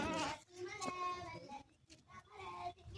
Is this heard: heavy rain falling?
no